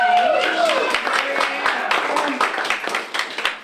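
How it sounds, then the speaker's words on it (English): An audience at a poetry night claps over a dense, continuous patter of hands, mixed with crowd noise and voices. "Let's get a round of applause as Mary Ann is coming up"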